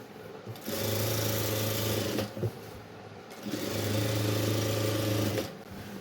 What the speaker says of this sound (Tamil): நான் கொஞ்சம் வேகமாக தைக்கிறேன் நீங்கள் மெதுவாக தைத்து பழகுங்கள்